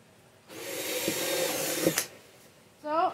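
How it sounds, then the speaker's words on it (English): A power drill whirs for about a second and a half drilling drainage holes in a container, then stops, leaving a brief quiet before a short squeaky sound. "I'm just gonna go through and just drill some drainage holes"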